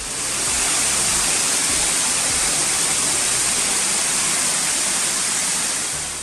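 Pepper Falls, a waterfall about 900 metres above sea level in hill country, roars as a loud, steady broadband rush of falling water with no pause.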